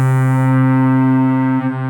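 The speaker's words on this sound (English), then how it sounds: "And a main drive down here." A sustained, buzzy synth note from a Genki Katla synthesizer pushed through its main drive distortion, thick with dense harmonics, loud and steady for under two seconds before a brief dip at the end, with no voices.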